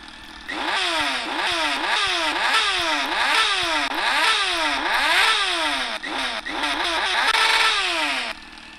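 A carbureted Honda Hornet with an aftermarket sport exhaust in a motorcycle game revs hard again and again, each rise in pitch snapping back down in a fast rhythm, loud and close, with a brief dip before it cuts off.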